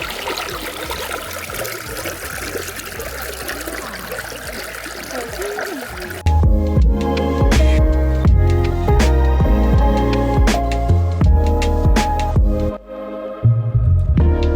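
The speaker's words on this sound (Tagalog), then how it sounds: "papadinig ko sa inyo yung tunog ng water dito" A stream in the Shirakawa-go area of Japan flows in a steady rushing wash for several seconds, then louder, busier sounds crowd in over the water.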